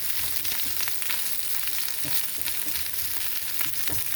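Fries frying in a pan of butter and olive oil give a steady, dense crackling sizzle with small pops throughout, close and even, with no talking.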